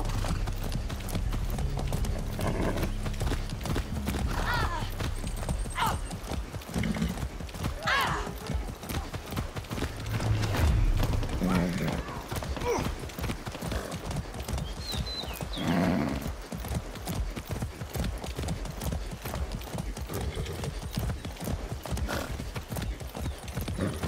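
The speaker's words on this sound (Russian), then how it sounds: "Хорошая лошадка." Steady rhythmic clip-clop of a horse's hooves in Far Cry 6 runs for the full stretch at close range, with a short whinny partway through and faint other game sounds underneath.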